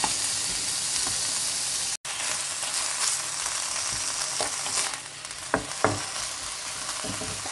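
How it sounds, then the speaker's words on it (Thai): Pork with red curry paste stir-frying in a pan for a pork and eggplant red curry, a steady close sizzle with a brief dropout near two seconds and a few sharp scrapes of the spatula toward the end. "ใส่ลงไปนะคะ คั่วนะคะให้หอมๆนะคะ"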